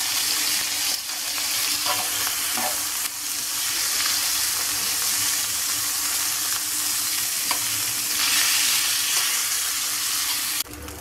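Calamari frying in a pan with salt, a loud continuous sizzle and hiss broken by a few soft knocks and scrapes of stirring, no talking.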